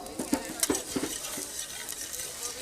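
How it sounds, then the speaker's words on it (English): Chopped fresh mint and butter are whisked into a sauce in a pan along with a little cream, giving quick, rhythmic scraping and clinking strokes over a low sizzle, close by and without speech. "We whisk that in, along with a little bit of cream."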